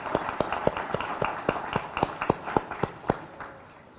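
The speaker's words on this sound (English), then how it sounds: "Please join me in a round of applause for our Chancellor." Scattered hand claps from a commencement ceremony audience, a dozen or so sharp, fairly close claps in a loose irregular rhythm rather than a full ovation, fading at the end.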